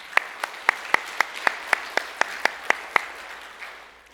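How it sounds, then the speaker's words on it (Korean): A church congregation claps together in a steady, even rhythm, about a dozen sharp unison beats, then the clapping dissolves into a fading murmur. "하나님께 영광의 박수 올려드립니다."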